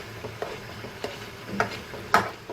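Makhandi halwa roasting in a pan with a spoon stirred through it, giving soft scraping strokes and a few sharper clinks over a low, steady sizzle, close and fairly quiet.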